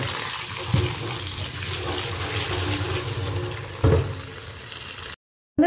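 Cabbage leaves washed under a running tap, a steady rush of splashing water with a couple of brief clunks before the flow cuts off abruptly.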